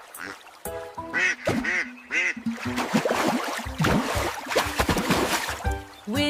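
Cartoon duck quacking in a children's farm animal song, bright repeated quacks over a cheerful sung and instrumental backing, loud and close throughout.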